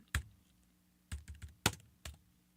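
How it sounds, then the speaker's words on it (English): Typing on a computer keyboard comes through as a few sharp, separate key clacks spaced across a quiet room, close and fairly faint. "Oh, shit, I'm typing in the wrong place."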